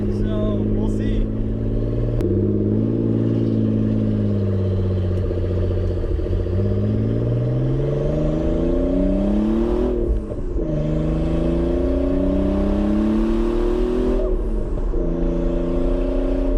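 A Nissan 300ZX Z32 twin-turbo car accelerates hard under boost, its engine note climbing repeatedly through the gears in loud, close sweeps with short dips at each shift.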